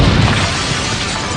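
Explosion sound effect from the You Don't Know Jack quiz game, a loud, dense, broadband blast with heavy low rumble and crackling debris that holds steady briefly without trailing off.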